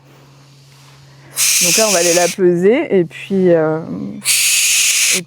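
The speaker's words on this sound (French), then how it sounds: "Donc là, c'est le cri des bébés chez les chouettes effraie." Barn owl chicks give long, harsh hissing screeches in two loud bursts, with someone talking close by between them at a bird of prey park.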